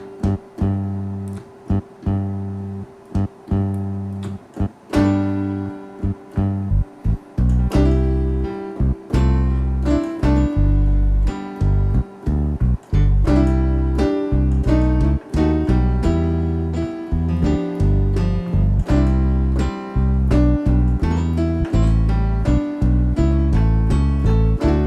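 A keyboard plays a left-hand bass line in a straight style, dotted quarter notes mixed with eighth notes, steady and loud, under a simple melody, with no talk.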